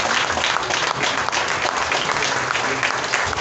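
A church congregation applauds in steady, dense clapping that fills the whole stretch. The sound is loud and continuous, with faint voices mixed underneath.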